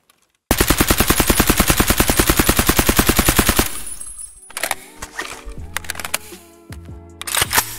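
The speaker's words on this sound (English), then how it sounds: "I will shoot few targets without controlling recoil in any way." Rapid automatic fire from an AKM rifle in Escape From Tarkov, a loud, evenly spaced burst of about thirty shots lasting three seconds, followed by clattering, jingling handling noises and scattered sharp clicks.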